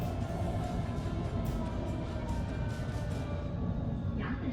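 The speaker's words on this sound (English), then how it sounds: "go inside of the subway station" A Shanghai subway station gives off a steady low rumble and hum of trains and machinery, with faint crowd murmur underneath and a soft, continuous background.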